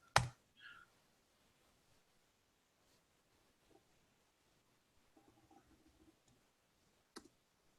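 A computer mouse gives a sharp close click while a demo file is being loaded, followed by a softer click and scattered faint ticks in near silence, with one more click near the end.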